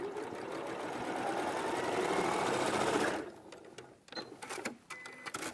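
A sewing machine runs fast and loud, joining fabric pieces right sides together, then stops after about three seconds, leaving scattered handling clicks and rustles.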